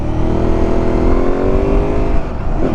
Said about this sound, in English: We got a car coming.